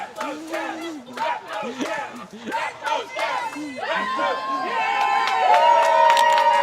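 A crowd of costumed goblins at a medieval tournament for a fall crown lyst whoops, shouts and cheers in overlapping voices. Individual yells rise into a sustained, louder roar toward the end.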